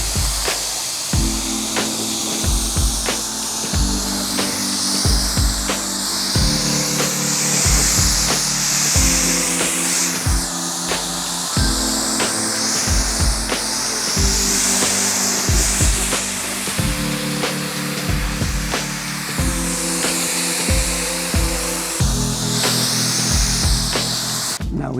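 A car being rinsed with a water spray in direct sun: a steady, loud hiss of spraying water runs throughout over a rhythmic mechanical hum, likely from a pressure washer pump, with no talking.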